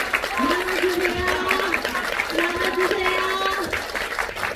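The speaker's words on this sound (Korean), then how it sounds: "박수 한번 부탁드립니다." Theater audience applause at a film screening and talk event, steady clapping throughout while a voice speaks over it and tonal music plays.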